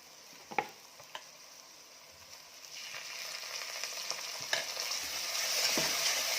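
Roasted, ground coconut paste is stirred into frying mutton masala for Kolhapuri mutton sukka. A steady close sizzle grows louder over the clip, broken by a few sharp spoon scrapes and clicks against the pan.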